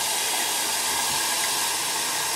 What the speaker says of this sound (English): Sorry for the loud noise here. The water spigot's right below.